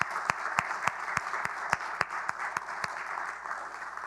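A crowd applauding steadily, with sharp individual claps punctuating a dense wash of clapping throughout; no voices.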